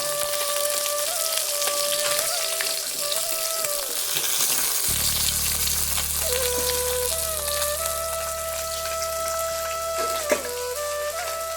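Pieces of catla fish fry in hot oil in a pan, giving a continuous crackling sizzle with a low hum underneath that steps up partway through. The sizzle stays alone and steady throughout.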